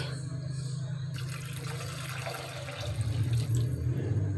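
Water is poured from a container into a pot of pansit lomi broth in a home kitchen, a splashing stream starting after a moment and continuing over a low steady hum.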